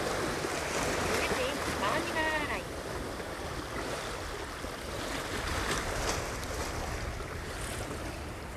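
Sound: strong wind at a seaside fishing spot

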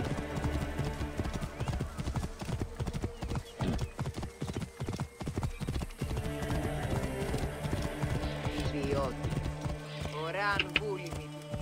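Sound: horse galloping hooves in video game Assassin's Creed Origins

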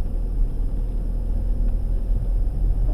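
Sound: 1998 Mitsubishi RVR driving off-road in a field

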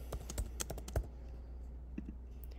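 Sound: computer keyboard typing HTML tags

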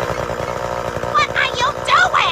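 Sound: chainsaw running

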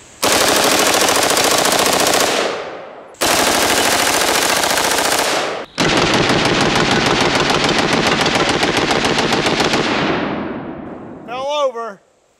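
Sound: full auto AR-15 firing 5.56 rounds from a snail drum

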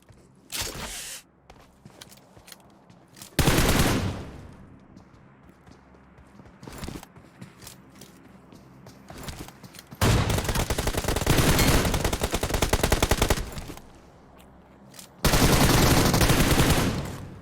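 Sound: gunfire in the video game PUBG Mobile

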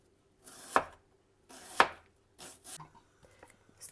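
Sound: knife slicing into thin strips

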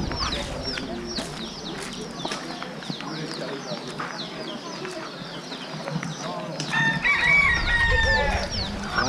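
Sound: chickens clucking and crowing on a farm

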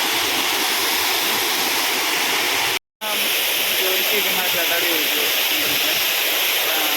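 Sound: water flowing at Thirubali waterfalls

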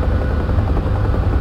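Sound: Huey helicopter flying in DCS video game

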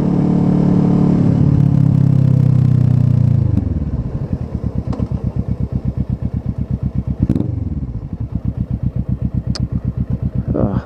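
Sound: motorcycle engine with aero exhaust while riding

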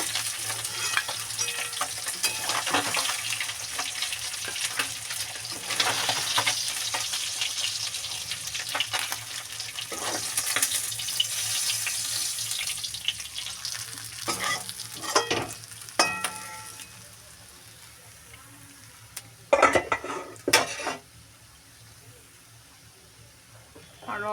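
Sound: tilapia fish frying in oil

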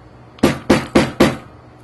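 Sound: hammer striking leather

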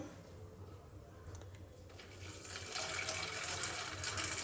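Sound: warm water being poured

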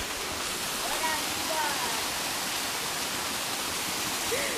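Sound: waterfall

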